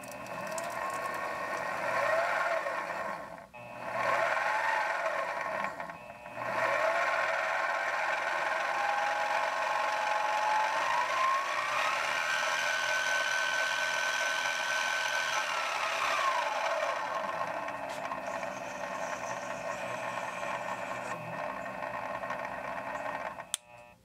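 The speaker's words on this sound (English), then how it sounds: "the dial can be increased to start the mill and vary the speed." An XJ9512 mini milling machine runs with its motor whine rising and falling as the speed dial is changed, a loud continuous mechanical drone with brief dips near the start and a sharp click at the end.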